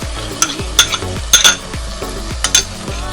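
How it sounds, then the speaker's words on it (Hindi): Whisked yogurt is stirred into a soft tomato curry for lobia masala over a lowered flame, with a series of rhythmic spoon scrapes against the pot over a light simmering hiss. "दही को हिला देते हैं"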